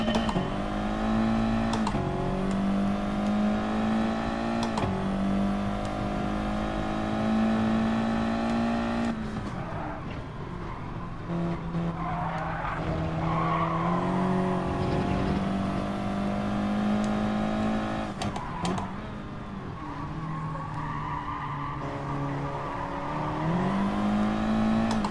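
An Audi TT race car engine at Brands Hatch in a racing video game, droning steadily with rising revs and abrupt drops at gear changes, close and loud throughout.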